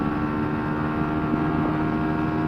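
The engine of a Yamaha YBR 125 motorcycle with a custom exhaust drones steadily at high revs, held in third gear while climbing a steep hill, a constant buzzing hum with no speech.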